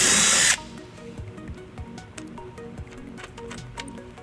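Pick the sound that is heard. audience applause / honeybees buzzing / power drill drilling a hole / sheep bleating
power drill drilling a hole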